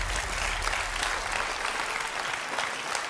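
A TV game show studio audience applauds: dense, steady clapping that fills the whole three seconds with no pause, heard on its own.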